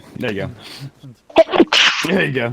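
A person sneezes sharply once, a loud close burst in the middle of a group chatting around a tabletop game, with people talking before and after.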